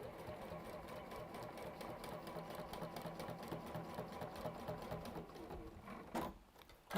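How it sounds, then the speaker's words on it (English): A sewing machine stitches steadily along a dotted line, its rapid even whirr continuing for several seconds close by and fairly quiet, then stopping abruptly near the end. "I will sew along there. along this dotted line"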